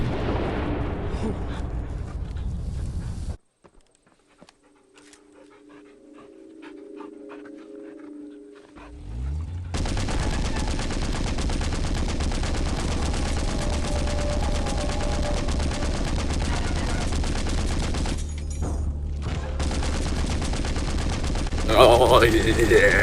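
Heavy gunfire and explosive bombardment in Into the Dead 2, with the loud roar of air force bombing filling most of the clip after a brief quiet stretch, a dull rumble beneath, and a voice talking over it.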